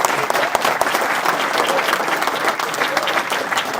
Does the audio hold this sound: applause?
yes